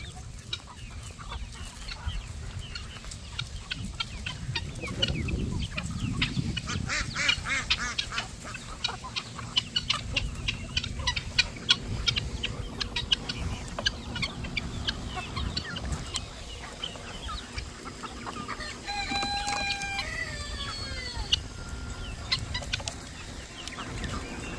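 Free-roaming chickens in red hills cluck steadily at moderate distance, with duck-like quacks and scattered bird calls mixed in across a long, busy outdoor stretch.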